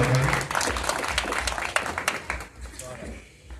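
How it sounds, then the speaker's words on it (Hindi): An audience at a Hindi poetry gathering claps vigorously, a burst of applause that thins out and fades toward the end, with speech mixed in. "जोरदार तालियां बजा करके मुझे बताइए।"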